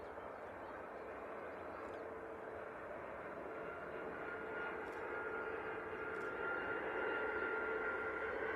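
Airbus A380 jet airliner taxiing past very close in morning light, a steady broad engine roar that swells slightly toward the end, continuous with no voices.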